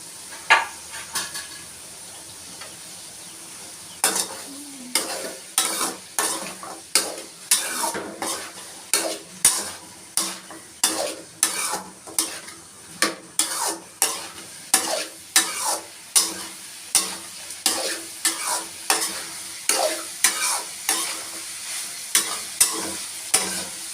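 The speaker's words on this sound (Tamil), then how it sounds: "நல்லா வதக்கிக்கலாம்." Onions and tomato sautéing in hot oil in a pan while a spoon stirs, a steady sizzle broken by regular scraping strokes about once a second, close and continuous, with no talk.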